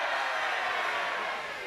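A folk festival concert audience cheers in a brief continuous roar of many voices, fairly distant and steady, tapering slightly at the end.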